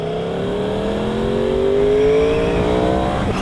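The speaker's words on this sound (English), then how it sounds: "you gotta rev this thing so high before it starts sounding like a motorcycle" A 2021 Yamaha R1 sport motorcycle revs up loud and close, its engine tone climbing in a smooth, sustained rise and easing slightly near the end, with no talking.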